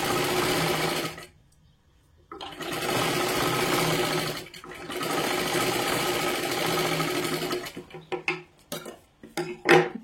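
Sewing machine stitching a 32-size princess blouse runs in steady sustained bursts, pausing briefly around two seconds and again near four and a half, then breaking into short stop-start runs and clicks toward the end.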